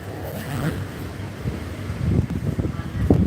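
Wind buffets the microphone with low, rumbling gusts that swell and thump unevenly, growing rougher toward the end.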